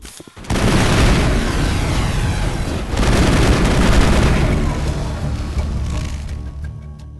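Dense, loud sustained gunfire and booming impacts during a combat encounter in the video game Mass Effect, a continuous roaring barrage that swells midway and then fades slightly.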